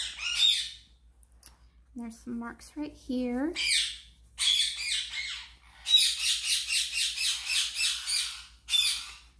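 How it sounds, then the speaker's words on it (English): Pet birds squawk loudly and repeatedly indoors, bursts of harsh calls and chirps coming close together through most of the stretch, while a person talks briefly partway through. "Sorry about my birds. They're awake"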